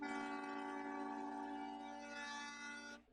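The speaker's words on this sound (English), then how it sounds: "We'll do a second train horn." A second train horn sound effect on a live stream, a long, loud chord-like horn blast held steadily for about three seconds, then ending sharply.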